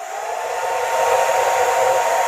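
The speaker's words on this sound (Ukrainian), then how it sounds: "Ось він включився і вмикаю фен." A hair dryer whirs steadily at close range, its broad airy roar growing slightly louder after the first moment and holding constant.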